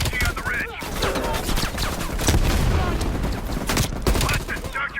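Heavy machine gun fire from a ridge in Call of Duty: Black Ops Cold War, a dense sustained rattle of bursts over battle noise, with voices talking over it.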